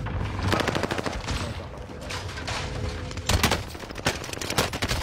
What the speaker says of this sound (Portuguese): Um tiro, dei 5 tiros no cara.